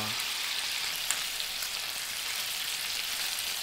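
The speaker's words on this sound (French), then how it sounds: "J'ai mis les œufs dans le poêle puis c'était tellement chaud que ça a genre collé." Scrambled eggs fry in a very hot pan on a camping stove, giving a steady, even sizzling hiss that stays at the same level throughout.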